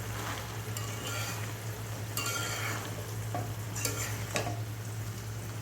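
Water lily stems with shrimp frying in a pan, a constant crackling sizzle punctuated by several scraping stirs of a spatula, close and moderately loud, with no voices.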